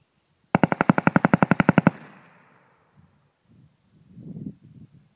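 A close, loud burst of about fifteen rapid machine gun shots rings out at an outdoor shooting range, then trails into a fading echo followed by quiet rustling.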